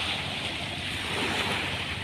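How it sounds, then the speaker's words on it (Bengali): A continuous wash of river waves on the Buriganga with a rushing, windy hiss, steady and fairly loud, no voices. "ঢেউ"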